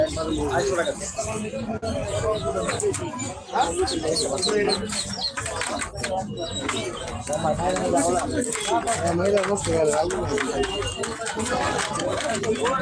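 Pigeons of the Bombay breed at a busy outdoor bird market, with soft coos and chirps scattered through dense crowd chatter and haggling voices that nearly cover them throughout.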